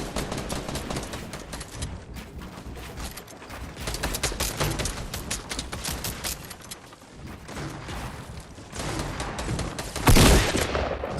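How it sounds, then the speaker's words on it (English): Video game gunfire crackles in rapid bursts and volleys, with a louder blast near the end, dense and continuous throughout with no voice over it. "I think somebody else started shooting"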